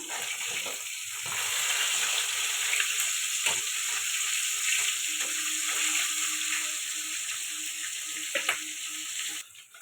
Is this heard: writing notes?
no